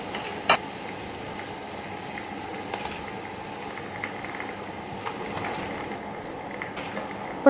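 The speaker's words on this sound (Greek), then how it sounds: "Θέλω να βράσουμε μέχρι το σιρόπι να κάνει κόμπους" Bitter orange pieces simmer in thick sugar syrup in a pot, a steady soft bubbling and sizzling hiss throughout with an occasional small clink or tap.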